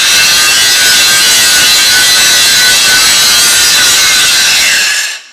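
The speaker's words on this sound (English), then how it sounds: "I'm spinning the grinder off from the pieces like we talked about in an earlier video." Angle grinder removing mill scale from the edges of steel plate before welding, a loud continuous high-pitched abrasive whine held steady for about five seconds, then quickly dying away, with no talk.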